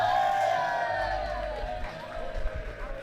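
Crowd of fans at a Miami Dolphins fan event inside Lost City Brewing, a dense indoor murmur of chatter and raised voices with a few shouts, fairly close, loud at first and easing slightly.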